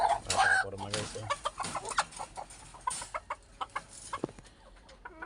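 A white chicken on a farm clucks in a run of short, repeated calls, close and clear, with some soft background voices and farmyard noise at the start.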